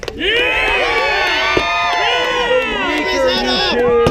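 Loud crowd cheering at an SCA fight demonstration at a Renaissance faire: many overlapping voices yelling and whooping close by, with children's high shouts rising and falling across the whole stretch.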